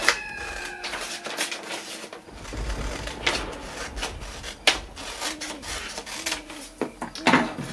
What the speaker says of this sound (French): on va découper donc le petit rectangle qui nous reste sur le côté